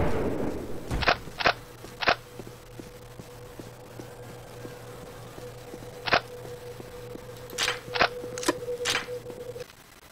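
Gunshots in the Postal 2 video game ring out as sharp, separate cracks: three close together early on, a lone shot in the middle, then a quicker cluster of four near the end, all over a steady electronic hum.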